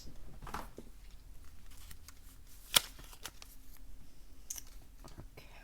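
Gilded tarot cards are handled quietly close up, giving soft scattered rustles and light clicks, with one sharp snap in the middle and faint shuffling throughout, without any talk.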